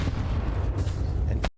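A grenade goes off during a professional Counter-Strike 2 match. It sounds as a loud, sustained broadband blast with rumbling low end that cuts off abruptly at the end.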